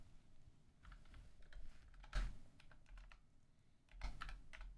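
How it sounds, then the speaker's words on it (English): Someone types on a computer keyboard with one hand, producing quiet, irregular clusters of key clicks with a couple of louder taps, close by with no talk. "Typing with one hand because I have snacks in the other."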